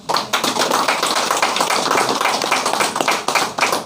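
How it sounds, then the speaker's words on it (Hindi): A small meeting group in Ranchi claps together, close and loud, a brisk patter of many hands with individual slaps standing out, sustained without pause for a few seconds and free of talk. "अच्छा, चलिए ताली एक बार हो जाए।"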